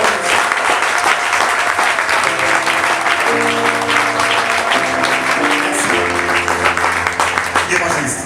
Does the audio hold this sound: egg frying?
no